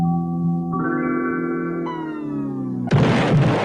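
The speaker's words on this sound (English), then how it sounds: "You didn't like the Windows 95 sound" Windows 95 startup chime plays loud and close, a swelling layered synth chord that steps upward before cutting into a burst of noise at the end.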